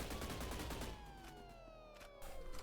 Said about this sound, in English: So right here you can see me using the Scar H.